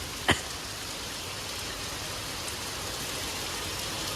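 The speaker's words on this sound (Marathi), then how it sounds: "बाई पावसाचा वेग किती आहे बघा. एकदम फोर्सफुली पडतो. मुसळधार पाऊस." Heavy rain pours down in a dense, unbroken roar at night near Dadar Chowpatty, Mumbai, with one brief sharp tap near the start.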